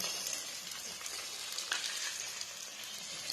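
Peas and capsicum sizzle and fry steadily in a hot pan for fried rice, a dense, continuous crackle close up with light stirring and no talk.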